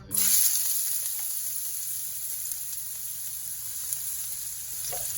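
Chopped onion and garlic hit hot cooking oil in a pan for chicken adobo, a bright sizzle that bursts loudly at first, then settles into a steady close frying hiss with a few soft stirring scrapes.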